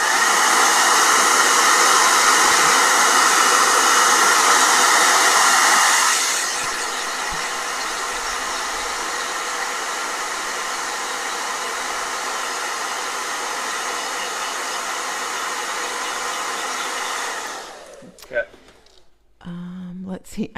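A blow dryer runs loud and steady as a broad airy roar, easing to a lower setting partway through and cutting off near the end with a few clunks, during a portrait painting session.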